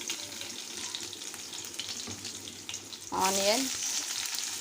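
Spices, green and dried chilies, crushed garlic and onion frying in hot oil, a steady sizzle that swells sharply louder when the onion hits the pan, with a brief spoken word over it.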